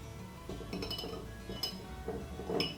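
A metal spoon clinks several times inside a small glass jar of melted wax, with light, close chinks scattered across a few seconds and nothing else around them.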